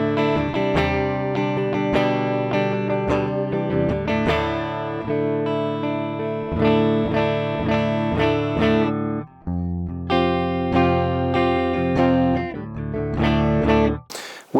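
A PRS McCarty electric guitar plays through a bypassed Tech21 RK5 pedal, giving clean, full chords and single notes in a steady phrase with brief gaps, close and loud, with no talking.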